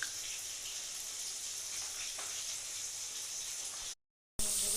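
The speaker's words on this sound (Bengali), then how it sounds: "এখানে আমি ফোড়ন দেবো গোটা তেজপাতা আর এরকম গরম মশলা, এলাচ আর জিরা" Whole bay leaf, garam masala, cardamom and cumin sizzle in hot oil in a pan, a steady crackling hiss with scattered pops, cutting out briefly before resuming.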